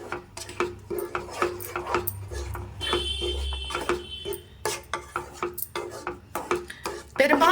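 A spoon stirs beetroot juice into a laddu mixture in a pan, making repeated scraping clinks and taps in an uneven rhythm, with someone talking throughout.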